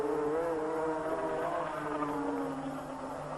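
GP500 racing motorcycles at the 1984 South African Grand Prix at Kyalami scream down the straight at high revs, a sustained, loud engine whine with a gradually shifting pitch.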